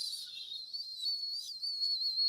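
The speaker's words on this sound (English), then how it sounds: "I love that whistle." A thin, high-pitched whistle holds steadily for a couple of seconds, wavering slightly in pitch, with nothing else around it.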